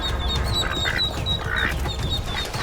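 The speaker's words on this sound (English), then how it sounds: "The mother duck is fighting for her family." Ducks quack in a territorial fight as a mother duck defends her ducklings, giving harsh, overlapping calls over steady, busy background noise with no clear pauses.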